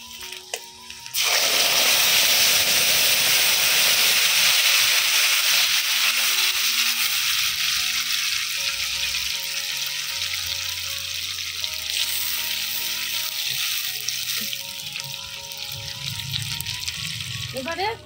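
Tomato paste hits hot oil in a pan for a tomato pickle, bursting into a loud, dense sizzle that holds steady close up, with a few clinks and faint background sounds over it.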